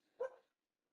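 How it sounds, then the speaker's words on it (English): A single short dog bark from a blind dog indoors, fairly faint and alone, fading quickly into silence. "Oh, you gonna bark at me?"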